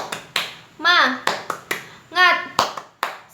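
Rhythmic group clapping cheer led in a classroom lesson, sharp claps in a steady pattern alternating with a child-like voice chanting between them, close and fairly loud.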